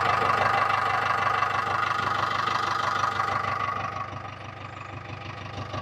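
A JCB backhoe loader's diesel engine, said to have an engine leak, idles steadily, loud and close, with a dense, even rumble that eases slightly in level toward the end.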